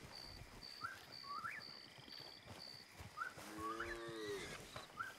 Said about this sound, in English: ¿Las 20 vacas que acaban de pasar o vos sos tarado?